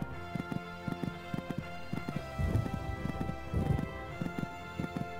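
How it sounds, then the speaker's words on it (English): Video-game horse cantering in Equestrian Showcase on PS1, a steady three-beat clip-clop of hoofbeats over a looping music track, with a brief louder rustling swell midway. "This horse just cantering along this part of the course."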